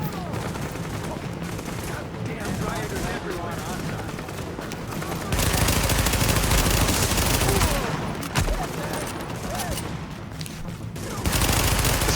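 Rapid automatic gunfire in the shooter game Tom Clancy's The Division, loud sustained bursts that stop and start in long stretches with brief pauses, while a player talks over the shooting.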